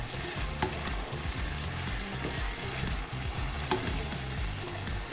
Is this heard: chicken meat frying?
yes